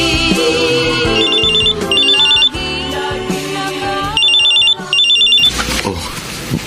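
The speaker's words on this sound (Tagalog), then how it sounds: "Oh, cellphone mo, Melba" A cellphone ringtone rings loud and steady, a repeating electronic melody with bright beeping phrases that recurs several times without any talking.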